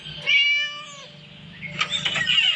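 A cat meows nearby indoors, one long clear wavering cry followed by a shorter burst of higher, scratchier sounds, with no voices.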